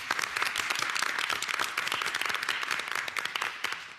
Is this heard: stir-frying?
no